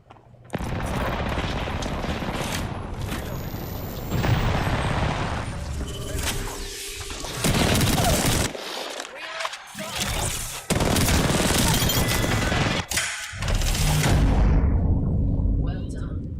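Gunfire in a video game crackles in loud, dense bursts and rattling volleys with booming hits, broken by brief pauses, while voices talk over the battle.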